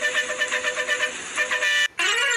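A musical bus horn from the Bus Simulator Indonesia game blares loudly, pulsing rapidly in steady bursts. It cuts off briefly, then a new sustained horn tone starts.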